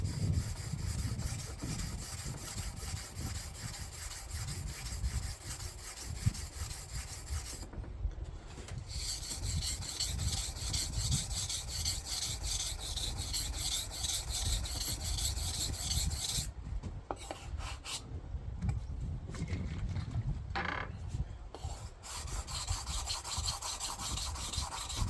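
Steady back-and-forth scraping of a knife blade on a whetstone, a continuous gritty rasp with brief pauses between passes, close and fairly quiet.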